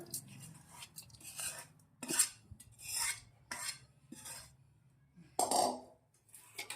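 A metal spoon scrapes and clinks against a vessel as urad dal dry-fruit laddu mixture is moved into a large pot. The sounds come as quiet, close, intermittent rasping strokes with short pauses between them.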